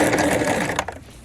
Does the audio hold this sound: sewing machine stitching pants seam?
yes